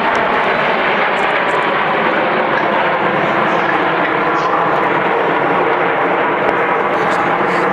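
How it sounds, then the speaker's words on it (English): RAF Red Arrows jets fly overhead at the Waddington International Air Show, a loud, steady, broadband engine roar with no breaks throughout. "As the jets go upside down"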